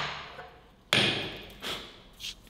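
A hammer strikes a Kanca Anvillo anvil vise once with a sharp metallic ring that decays, followed by two fainter lighter taps.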